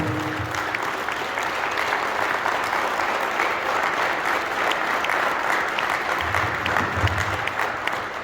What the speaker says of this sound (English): Men, give them a applause, please. Standing ovation, please.